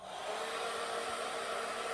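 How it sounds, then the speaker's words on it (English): Heat gun blowing steadily to dry a handmade birthday cake topper, a continuous close whooshing hiss at even loudness throughout with no talking. "So I'm going to go ahead and use my heat gun."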